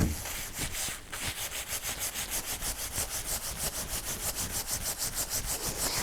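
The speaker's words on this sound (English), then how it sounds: "When you're rubbing your layout, make sure it does not stick to your net" Hands rub a wet nuno felt layout of wool on fabric through a net, using olive oil soap, making a close, rhythmic swishing scrub of quick regular strokes repeated steadily.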